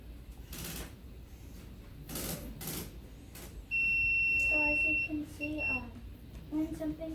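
Electronic beeps from a homemade Raspberry Pi home alarm set off when something passes in front of it, a steady high tone with short repeated chirps starting midway, close and fairly loud over a quiet room with some rustling.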